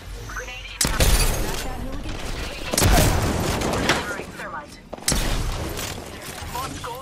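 Video game gunfire in loud bursts and volleys, three strong onsets amid continuous shooting, with game voices talking over the action.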